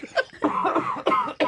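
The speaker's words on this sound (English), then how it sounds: "The lady coughs in the first act." A woman in a theatre audience coughs during the first act, producing a run of close, loud, rough coughs in quick succession with brief gaps between the bursts.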